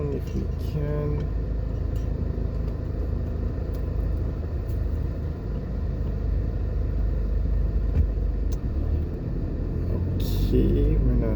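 A car driving along a road in Jamaica, with a steady low engine and road rumble running throughout at an even level, and faint voices talking in the background.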